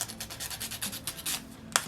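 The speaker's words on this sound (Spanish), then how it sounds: "hace falta lijar un poco esta pieza para que atraviese las dos capas" Plastic piece of an Allosaurus 3D model kit being sanded down by hand, a quick series of close, rhythmic rasping strokes with no talking.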